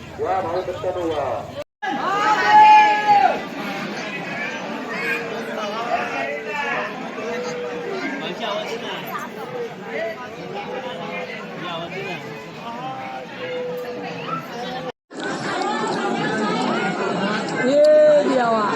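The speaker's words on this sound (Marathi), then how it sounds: "आणि आज गर्दी जाम आहे जामच" A dense crowd at Bhimashankar temple on Mahashivratri fills the air with a constant babble of many voices, near and loud, with a person talking close by over it.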